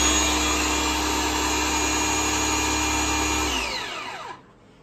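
A Forever 1500 W, 200 bar high pressure washer runs with a loud, steady motor whine, then winds down and spins to a stop near the end, with no voices.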